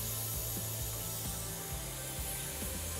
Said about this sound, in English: Just snug my screws here, all three.